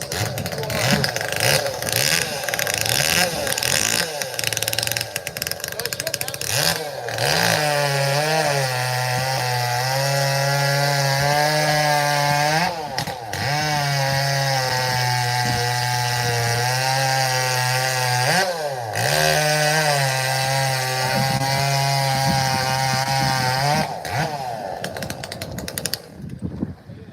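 Chainsaw at a saw fest cutting three wood cookies, a loud, close engine holding a steady high rev that bogs down in three long cuts, each marked by a dip in pitch and a brief rev between, with a crowd audible underneath.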